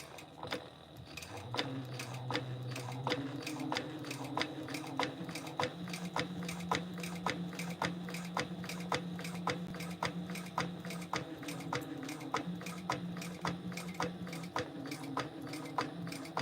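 A domestic sewing machine top stitching a Mila Monster bag, running in a steady fast rhythmic clatter of needle strokes for a long stretch, with a faint motor hum shifting pitch underneath and no talking.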